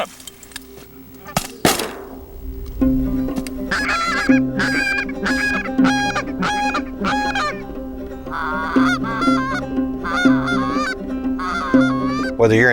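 Repeated loud Canada goose honks in quick bursts, close by, following a sharp bang near the start during a goose hunt, with a low steady drone underneath.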